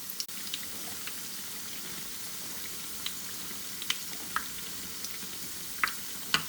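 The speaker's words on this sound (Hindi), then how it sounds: "तो इनको हम लोग करेंगे गोल्डन ब्राउन और फिर मैं आपको दिखाती हूँ।" Bread fingers fry in hot oil, a steady close sizzle with scattered small pops and crackles throughout, no talking.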